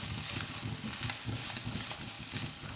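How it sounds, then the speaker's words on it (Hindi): Spice mix with salt and red chili powder being stirred in a pan over a low flame, a soft, continuous scraping and faint sizzle at low volume, with no talk. "इसको अच्छे से मिक्स करेंगे"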